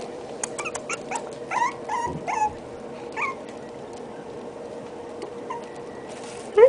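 Young puppies give high, thin whimpers and squeaks in scattered short bursts over a soft, quiet background, close by and without any talking.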